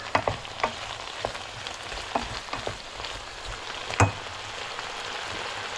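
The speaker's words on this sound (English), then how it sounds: "give it a quick stir" Chicken ramen being stirred in a skillet, a soft steady sizzle broken by scattered scraping clicks of the utensil against the pan, close and alone with no talk.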